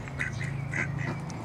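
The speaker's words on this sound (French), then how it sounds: "Oh les canards!" A few ducks quack in short nasal bursts nearby, several calls spread over a moment against a low steady background hum.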